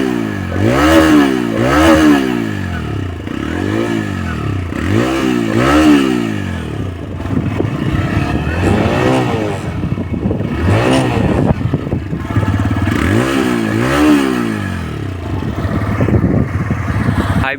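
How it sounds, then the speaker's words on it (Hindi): A TVS Raider motorcycle revs its exhaust in repeated rising and falling bursts, loud and close, with several quick blips early on and a few more revs later, no talk over it. "और देखिए आपको एग्जॉस्ट सुनाते हैं।"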